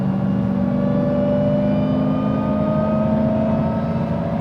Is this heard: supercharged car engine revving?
yes